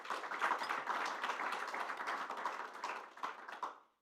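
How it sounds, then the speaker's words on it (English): Short burst of audience applause at a policy panel event, dense clapping at moderate volume that holds for a few seconds then tapers off to silence. "So huge applause for you."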